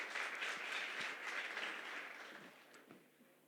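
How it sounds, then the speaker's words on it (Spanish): A church congregation applauds, steady broadband clapping at moderate distance that holds and then gradually thins out, with individual claps standing out near the end. "Denos un fuerte aplauso una vez más,"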